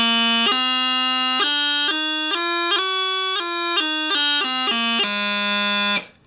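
Bagpipe chanter playing a run of about a dozen sustained reedy notes, each change marked by a quick G grace note chirp, close and steady with no talking.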